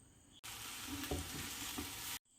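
Kerala-style beans thoran with coconut is stirred in a hot pan, producing a short, close burst of sizzling with a few spatula scrapes that starts and stops abruptly.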